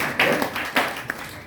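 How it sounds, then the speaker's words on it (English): A few scattered claps from an audience at a motivational talk ring out, sparse and uneven, fading after a handful of strikes. "Can we clap for God?"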